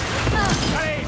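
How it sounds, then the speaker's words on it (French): Enemy gunfire in Marvel's Spider-Man 2, a dense burst of shots packed into a second of loud, busy game combat noise, with a shouted voice mixed in. "Ouvre le feu!"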